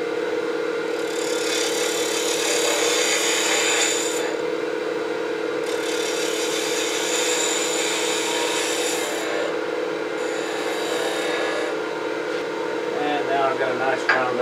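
Wood lathe spinning a wooden coffee scoop as its bottom is rounded over, a loud continuous rasping, rubbing scrape close up that rises and dips in intensity for the whole stretch.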